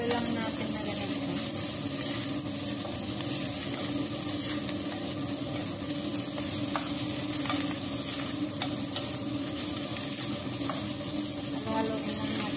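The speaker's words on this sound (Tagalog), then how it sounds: "Halo-haloin lang natin mabuti" Beef pastry filling sizzles steadily in a hot pan while a spoon stirs through it, with occasional scraping clicks against the pan over the constant frying hiss.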